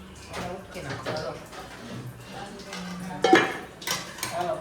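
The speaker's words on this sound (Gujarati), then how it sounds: "આજે કઢાઈ ઉટકી દો." In a home kitchen, a kadai and other dishes are scrubbed and rinsed, with scraping, clinking metal and splashing water in irregular bursts, fairly faint, with people talking around it.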